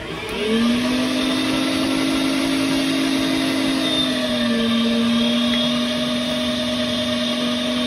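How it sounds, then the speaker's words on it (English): Electric meat grinder running steadily while grinding deer meat for snack sticks, a loud continuous motor whine with a slight pitch drop midway and no talking. "But for now, we're just going to grind this up and do the same thing we did a little bit ago."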